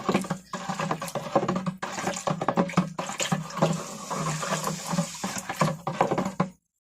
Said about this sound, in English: So you just mix that until the water's clear